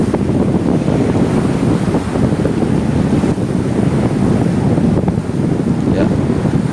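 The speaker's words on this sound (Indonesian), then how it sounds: "Ombaknya sangat besar sekali teman-teman." Big surf pounds the shore at Balekambang beach in Malang, East Java, a loud, continuous roar of churning waves heavily buffeted by wind noise on the microphone.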